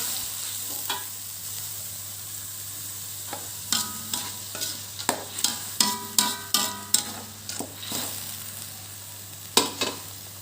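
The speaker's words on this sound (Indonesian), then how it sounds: "Bumbu sambal lado nih bu ya. Sambal lado. Kita aduk dulu." Repeated scraping strokes of a utensil stirring thick sambal lado chili paste in a frying pan, with a soft sizzle underneath and a low steady hum.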